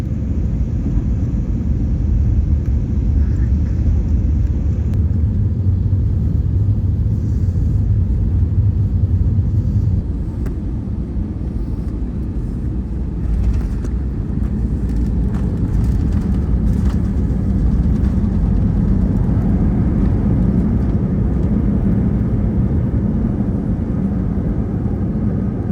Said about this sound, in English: This evening, we will be landing towards the east on runway